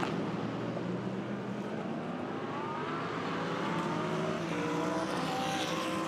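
GT race cars, a Mercedes and a McLaren, run together at Monza. Their engines make a continuous broadband roar with faint rising harmonic sweeps as they accelerate, heard at a moderate distance.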